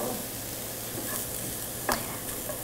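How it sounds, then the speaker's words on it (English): Diced celery with onion sautés for a butternut squash risotto, hissing in a steady bright sizzle close by, with a single brief scrape near the end. "go ahead and cook a little bit of celery I have diced up"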